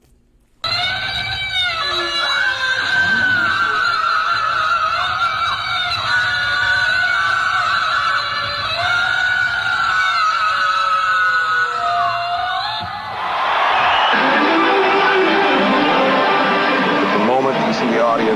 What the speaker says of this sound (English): rooting and they're hollering and they're screaming